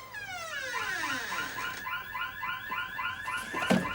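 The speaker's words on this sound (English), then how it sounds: "No, ring the alarm bell." An electronic alarm wailing in a house after a break-in, a rapidly sweeping, repeating siren-like warble that holds steady and fairly loud for several seconds, with a brief thump near the end and no talking.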